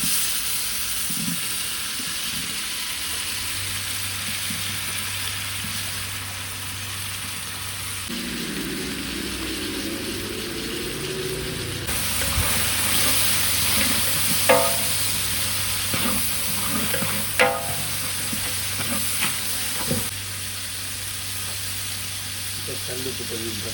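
Chopped tomatoes hit hot oil in a pan for mutton biryani and sizzle steadily, with stirring scrapes and clatter coming through as a voice speaks over the cooking.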